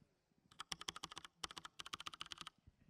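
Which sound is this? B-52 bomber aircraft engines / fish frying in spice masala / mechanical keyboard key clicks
mechanical keyboard key clicks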